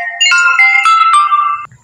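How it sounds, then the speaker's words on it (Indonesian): A phone ringtone plays loudly and close for about two seconds, a bright melodic electronic tune of several quick notes, with no talking over it. "ono telepon"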